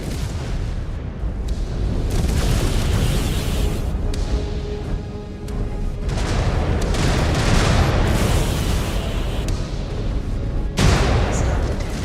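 Missile blasts and heavy booms from mech combat in the video game MechWarrior 5: Clans, a dense, continuous roar of repeated explosions with sharp impacts near the end, with faint voice callouts mixed in.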